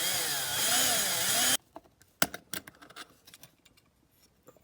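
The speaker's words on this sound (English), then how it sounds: "I think I'll get a bigger drill on those back ones." A power drill bores out a rivet on a Corgi 309 Aston Martin DB4 die-cast model car, giving a loud, wavering whine for under two seconds, followed by scattered small clicks and taps.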